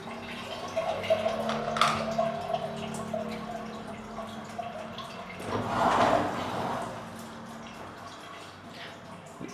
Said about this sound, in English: Let's try the shower. Yeah, so just a handheld shower. Seems to work okay.